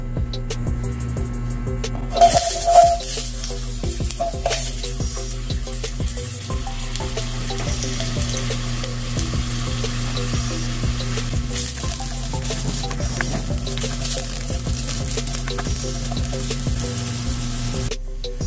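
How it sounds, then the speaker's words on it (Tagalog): Potatoes fry in hot cooking oil in a pan, giving off a steady, close sizzle for the whole stretch. Scattered clinks and stirring noises sit on top, with a brief louder rattle near the start. "maglalagay na po tayo ng ating cooking oil sa ating cooking pan para i-fried muna natin yung ating mga patatas"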